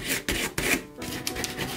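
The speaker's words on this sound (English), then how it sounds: "just take your scraper" A scraper rubbed firmly over transfer tape on a craft surface, a few short, close scraping strokes in quick succession.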